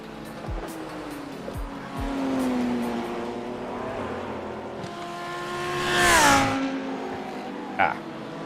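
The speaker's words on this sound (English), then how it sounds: "Cruising along behind another BMW." A BMW race car lapping Bathurst in a racing game, engine droning steadily with gear changes and a rising revving surge, plus other cars close by, under someone talking.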